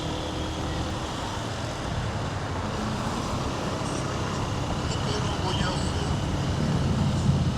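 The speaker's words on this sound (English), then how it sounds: "We've got traffic, wind, and the motorcycle itself." Motorcycle ridden slowly through traffic in Mexico, with steady engine drone and broadband wind rush merging into continuous road noise, loud and unbroken throughout.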